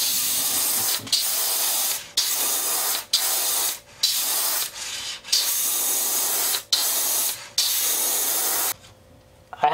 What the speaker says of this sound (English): I think we're ready to spray.